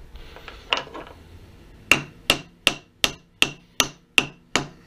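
Eight hard hammer strikes land at a steady, even pace after a short stretch of quieter mechanical handling. Each blow is a loud, close, ringing impact as a bar is driven into place.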